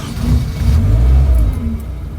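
Suzuki Katana 4x4 engine cranking and catching, a steady low rumble rising briefly as it settles into a smooth idle, close and fairly loud with no talk.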